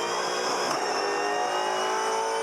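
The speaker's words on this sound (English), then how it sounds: "Comes a wheel spin. Listen to the wheel spin." A Supercars race car spins its wheels at the start of Race 3 of the 2017 Tasmania SuperSprint: a loud, continuous, high-pitched roar of engine and tyres lasting the whole moment, with no voices over it.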